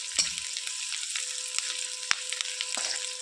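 Onions sizzling steadily in a hot pan for kanda poha, with soft scraping stirs now and then, close and alone without talk.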